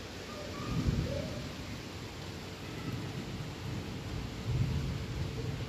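Light rain falls steadily with soft low rumbles of thunder around one second and again near four and a half seconds, a continuous wash of noise without voices.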